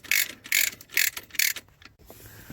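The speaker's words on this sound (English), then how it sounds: "Now you want to tighten these 3 bolts in the back, 17 millimeters, before you tighten down your cylinder head bolts." A ratchet tightens 17 mm bolts on the 1.8T engine of a 2002 VW Jetta during a cylinder head install, giving four rhythmic bursts of close, crisp clicking followed by a quieter pause.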